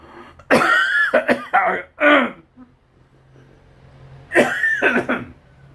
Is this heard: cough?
yes